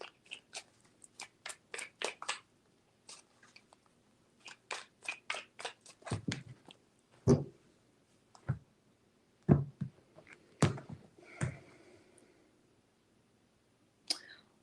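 Tarot cards being shuffled in three rounds: a rapid series of crisp card riffles and flicks, then a few sharper slaps and taps as the deck is squared, close and fairly loud, with no talking.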